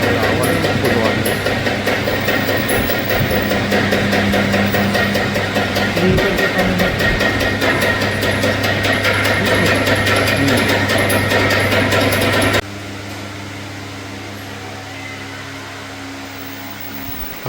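A hydro-test pump pressurizes a CNG cylinder, making a loud, steady mechanical drone with rapid ratcheting pulses that runs continuously and then drops to a lower, quieter hum near the end.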